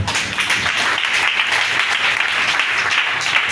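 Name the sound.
congregation applauding to acclaim the Lord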